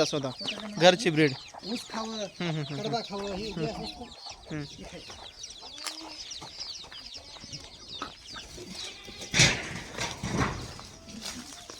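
Chickens cluck and squawk repeatedly at close range on a poultry and goat farm, mixed with bursts of talk and farmyard noise.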